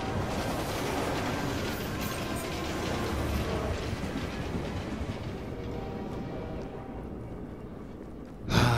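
Trains in the Assassin's Creed Unity video game rumble and clatter past steadily with mechanical rattling and rail clicks, fading toward the end before a sudden closer thump.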